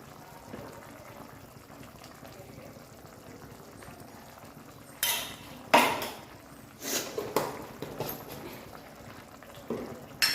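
Yogurt kichadi stirred in a pot, faint bubbling at first, then several louder scraping and clanking stirring strokes close by in the second half.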